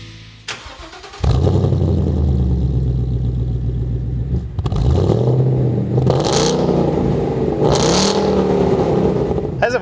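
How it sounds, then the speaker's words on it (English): A 2015-2017 Mustang GT V8 with an MBRP 3-inch aluminized cat-back exhaust starts with a loud deep rumble, settles into a steady idle, then two sharp revs swell and fall near the end, with no voices. "still that same nice deep tone at idle and an aggressive sound when you hit it"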